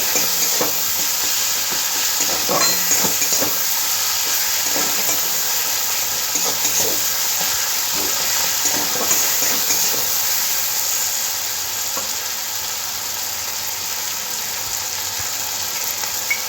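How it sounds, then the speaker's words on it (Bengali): Tomatoes fry and are stirred in a pan for Bengali aar fish curry, giving a steady close sizzle and hiss with intermittent scraping stir strokes throughout, no talking. "তাহলে টমেটোটা কম সময়ের মধ্যে সিদ্ধ হয়ে যাবে তাড়াতাড়ি টমেটোটা কম সময়ের মধ্যে ভালো নরম হয়ে যাবে"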